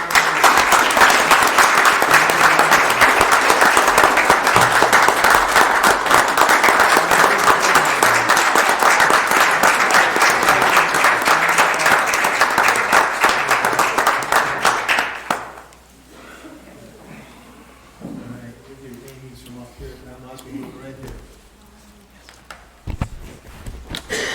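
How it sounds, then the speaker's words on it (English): A committee meeting audience gives a loud, sustained round of applause lasting about fifteen seconds, then it cuts off abruptly and a voice speaks quietly over the room. "Again, a round of applause for the"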